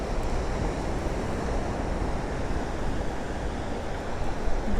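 Ocean waves roll in at San Clemente beach near its wooden pier, a steady loud wash of surf and wind noise with no distinct breaks.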